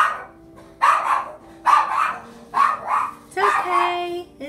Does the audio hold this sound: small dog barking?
yes